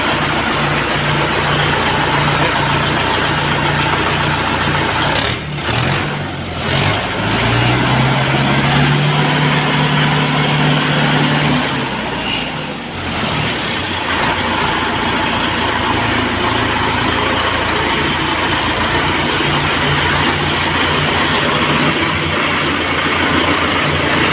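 Mahindra Yuvo Tech Plus 585 DI tractor engine running, a loud steady diesel drone throughout, with a brief rising rev partway through and a few sharp clatters near the start; no talking.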